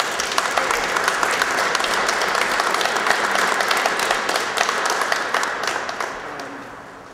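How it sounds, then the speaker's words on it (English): A steady round of audience applause fills the room at a Black veterans exhibit in Oakland, dense clapping from a sizable crowd that holds even throughout and tapers slightly at the end. "Could everybody give him a round of applause?"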